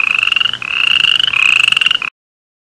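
A toad croaks in loud, sustained trilling bursts, three long runs back to back, close and alone before cutting to silence.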